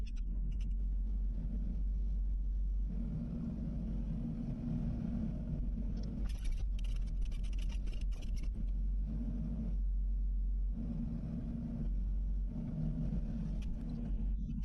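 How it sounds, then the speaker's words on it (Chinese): Excavator working on a narrow building site, levelling a pile of soil with its bucket: a steady low diesel engine rumble throughout, with intermittent harsher scraping and clattering bursts as the bucket moves earth. "先帮这堆土稍微的挖平一下，然后挖机开到上面去"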